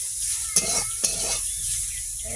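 Potatoes sizzle steadily in a pan with a constant hiss of frying, while two quick scraping stirs of a spatula cut through near the start and middle; no one speaks.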